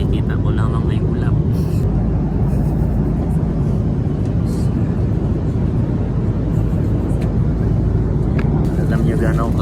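Steady, loud airplane cabin drone during a flight on a Philippines trip, a dense low rumble that stays constant throughout with no clear breaks.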